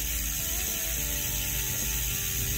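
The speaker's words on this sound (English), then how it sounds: "框殺 Rim Brake 版本嘅花鼓嘅聲咧係咁樣嘅" Freewheel hub of a rim-brake Superteam All-Carbon Ultra bicycle wheel ticking as it spins, a rapid, even ratchet clicking heard up close and steady from start to end with no talk.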